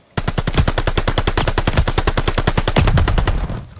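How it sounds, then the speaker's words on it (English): Rapid, sustained automatic gunfire from a hostile aircraft's strafing run in a video game, a loud, evenly spaced burst of shots lasting several seconds and swelling slightly near the end, with no talk over it. "Hostile strafe inbound."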